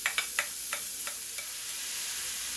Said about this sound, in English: We're going to go ahead and add our beef and our onions,